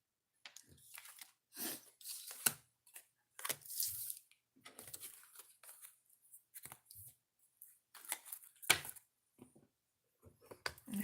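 Tarot card decks shuffled close to the mic in a quiet room, a string of crisp riffling, tapping and rustling bursts with short pauses between them.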